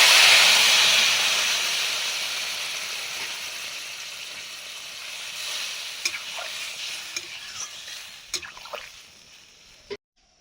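Water poured into a simmering fish curry with ridge gourd bursts into a loud, close sizzling hiss that steadily fades over several seconds, followed by a few light clinks and knocks before stopping abruptly.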